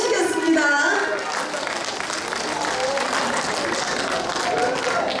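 An audience claps at an outdoor stage show at Soyosan, steady applause running the whole time beneath a host speaking over a microphone.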